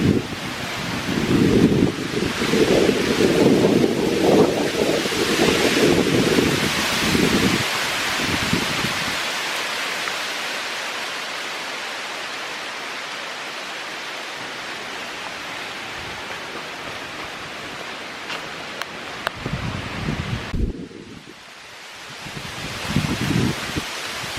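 Wind gusts through trees on a hiking trail at Jefferson Memorial, sweeping leaves off the branches in a broad, roaring rush that swells loud early, eases to a steady hiss, then gusts again near the end, with no voices.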